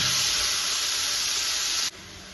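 Onions sauté in hot oil with salt for a Kerala-style fried onion chutney, producing a loud, steady sizzling hiss up close that drops abruptly near the end. No talk is heard.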